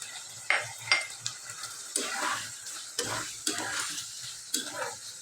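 Beef tehari with potatoes, carrots, chickpeas and tomato is stir-fried in a pot, a close sizzle under a regular run of spoon scrapes and metallic knocks against the pan, quiet and without speech.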